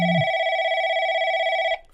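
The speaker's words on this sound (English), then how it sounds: "First phone call, ignored." A phone in the video game Replica rings with a steady electronic tone, one sustained ring lasting under two seconds before cutting off abruptly, clear and alone.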